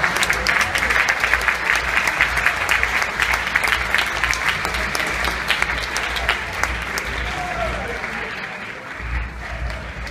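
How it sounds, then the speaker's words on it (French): A French audience at an evening advertising show applauds loudly and steadily, a dense roar of close clapping that gradually eases off near the end while a voice comes in faintly. "On peut les applaudir déjà très très fort"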